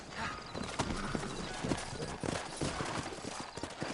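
Horse hooves clip-clop in a steady, close rhythm in a Western-style video game town, with a faint voice in the background.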